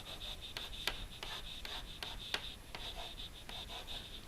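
Numbers are written by hand in a quiet room, the pen scratching in short, rhythmic strokes with a few sharper taps, soft and close, and no voices.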